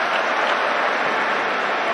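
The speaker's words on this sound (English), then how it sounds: "And the crowd are roaring here, they can sense something on." Football crowd roaring in the stadium during a UEFA Cup match between FCSB and Middlesbrough, a dense, loud wash of cheering and applause sustained without a break.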